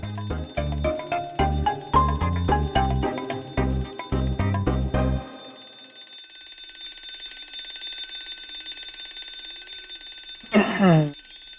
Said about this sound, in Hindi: अलार्म सोते हुए को जगाने के लिए होता है।